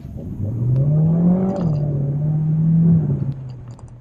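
A Peugeot 3008 Hybrid4 accelerates in sport mode, its engine note climbing steadily, easing briefly, then holding a strong even hum before tapering off; heard from inside the car with no talking.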